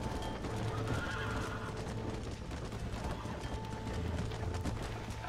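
Horse whinnying with clip-clopping hooves during a stampede in the Red Dead Redemption video game, loud and continuous over a busy game soundscape with mechanical clatter.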